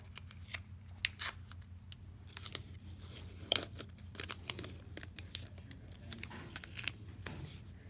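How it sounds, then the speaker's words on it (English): Paper backing peeled off an adhesive craft sheet for a plastic owl shape, giving a string of close, crisp tearing and crinkling bursts at an irregular pace against a quiet background. "So we just want to take off this adhesive starting at the top."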